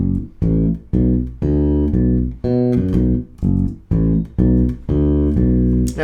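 A bass guitar plays a bass line with the fingers, a loud, close, deep riff of short repeating phrases in an uneven, looping rhythm, played alone with no talking.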